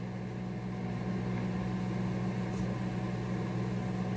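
A microwave oven heating a potato, a steady low electrical hum and whir running unbroken and fairly quiet throughout.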